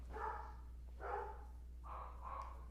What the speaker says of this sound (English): I hear my dogs barking.